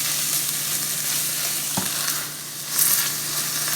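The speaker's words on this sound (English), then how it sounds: "you're going to add your butter and let that melt down" Butter melts and sizzles in a pan holding browned bits from cooked chicken, a dense, even hiss close by with one brief clink partway through and a slight swell near the end.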